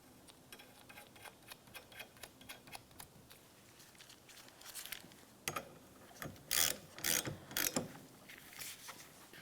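A ratchet tightens the rear wiper arm mounting nut on a 1998–2002 Lincoln Navigator. Close, dry clicking comes first in short runs, then in louder, sharper bursts near the end.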